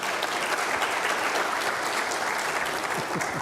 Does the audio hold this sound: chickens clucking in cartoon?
no